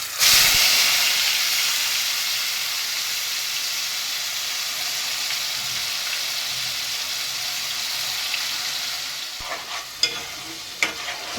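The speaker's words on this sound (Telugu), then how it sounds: "ఈ మసాలా అనేది మనకి పచ్చి స్మెల్ పోయే వరకు వేగాలండి." Masala with onion paste fries in a pan for a fish curry with white brinjal, sizzling and hissing steadily throughout. A few faint clinks of stirring come near the end, and no one speaks.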